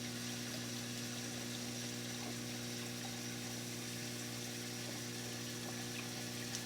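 A reef aquarium sump return pump hums steadily while water circulates between the return chamber and refugium, a constant low drone with faint trickling, unchanging and fairly quiet throughout.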